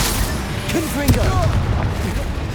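Confringo explosive spell cast in Hogwarts Legacy, a blast with a sharp burst near one second over steady rumbling battle noise, with a voice speaking over it.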